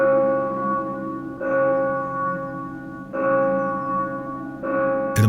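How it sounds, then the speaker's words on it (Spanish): Church bells of Soria tolling slowly and monotonously, three sustained strikes with long ringing overtones that overlap and decay, steady and unaccompanied. "las campanas de la iglesia de Soria doblaban a lo lejos con un tañido monótono y triste"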